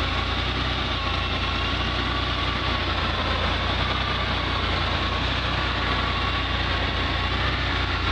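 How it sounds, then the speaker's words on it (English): A 1982 Porsche 911SC engine idles steadily and alone, holding a constant, even rumble with no change in pitch throughout. "here's the power plant running"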